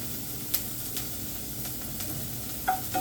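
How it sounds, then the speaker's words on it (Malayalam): Onion, garlic and green chili sizzle steadily in a pan with salt, a soft continuous frying hiss broken by a few faint stirring scrapes and clicks. "ഇനി ഉള്ളി ഒന്ന് വഴണ്ട് കിട്ടാൻ വേണ്ടിയിട്ട്"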